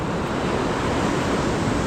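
Small ocean waves wash steadily onto the shore, a continuous soft rushing surf with no distinct breaks over a couple of seconds.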